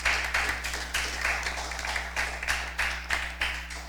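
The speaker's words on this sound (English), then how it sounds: "Give them a round of applause, please." Clapping from a modest audience at a junior science quiz competition, heard as a run of loose, rhythmic bursts over a low electrical hum.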